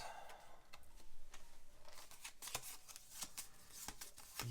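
A deck of Arkham Horror Third Edition cards being shuffled by hand at a tabletop game, heard as a close, continuous papery riffling with sharp clicks and slaps scattered throughout, no voices.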